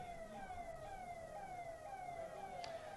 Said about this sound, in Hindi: भैया ये एम्बुलेंस है क्या?